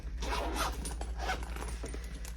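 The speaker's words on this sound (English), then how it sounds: "And then in the main zipper compartment," Main compartment zipper on a sling bag pulled open in a few quick scratchy strokes, close and fairly quiet.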